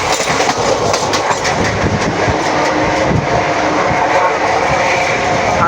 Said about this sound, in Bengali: দেখুন দেখুন একবার তিস্তা তোরসা এক্সপ্রেসের স্পিড নেওয়া শুরু হয়েছে, বিধাননগর ছাড়লো।